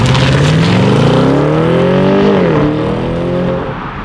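A 2020 BMW 750i xDrive with full-time all-wheel drive accelerating hard from inside, its engine note climbing steadily in pitch with one brief dip at a gear change, loud and close throughout.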